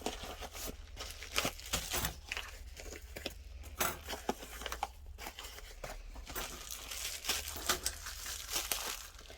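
Crinkly double plastic packaging around silk threads and beads being unwrapped, with steady rustling and crackling bursts throughout, close by and fairly quiet, with no talking.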